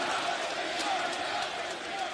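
A wrestling arena crowd stomps and claps in a dense, continuous roar that fills the space with no breaks.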